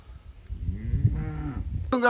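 A cow for sale on a farm near Palani in Dindigul district lows once in a long, close, drawn-out moo, then a brief sharp knock follows at the end.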